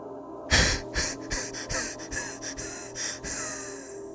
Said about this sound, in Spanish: emitió un ceseo producto de su burda respiración